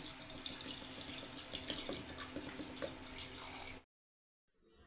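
Water pours in a steady stream into a pressure cooker holding mutton and rice, a close, bright splashing flow lasting a few seconds before stopping abruptly into near silence.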